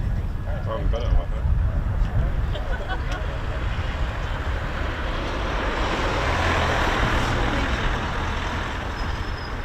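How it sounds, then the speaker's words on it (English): A military jet engine roars steadily nearby at RAF Lakenheath, a broad loud rumble that swells slightly toward the end, with faint voices underneath early on. "Hear the engine of the jet."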